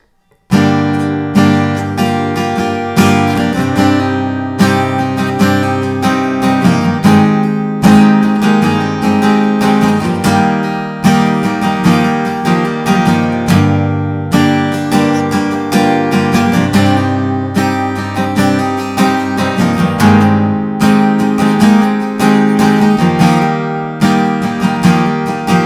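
Loud, steady acoustic guitar chords of a song strummed continuously in a driving rhythm, with small hammer-on embellishments woven between changes, no talking over it.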